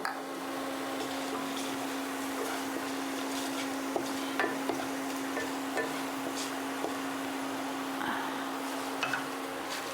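Black cumin and whole cumin seeds sizzle in hot oil in a pan, a steady dense frying hiss with a constant low hum underneath and scattered faint pops and clinks, no talking.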